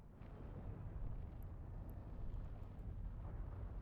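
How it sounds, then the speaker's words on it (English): Spaceship guns firing in the EVE Online video game, heard as a steady, heavy low rumble of booming weapon fire with no distinct separate shots, loud and continuous throughout. "Fire at will, Captain. Make sure to use both of your guns."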